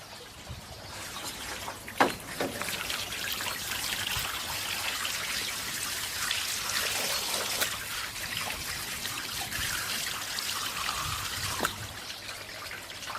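Water runs and trickles steadily through a roof gutter protection system, rinsing a heavy layer of spruce needles, with a continuous close splashing wash and a few sharper drips.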